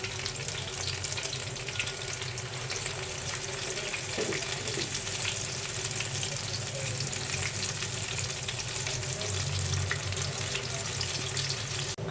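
Chicken and vegetable pakoras frying in hot oil, a dense, even crackling sizzle that holds steady throughout, close and loud with no voices.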